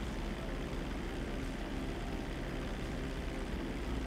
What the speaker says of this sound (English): almost crashing a plane